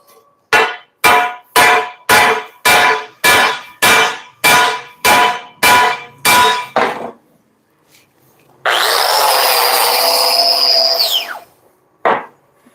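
A hammer strikes a cracked 4-inch International-type leaf spring during a welding repair: about a dozen loud, even metallic blows, then a few seconds of quiet, a long harsh continuous grinding or rasping burst, and one final hit.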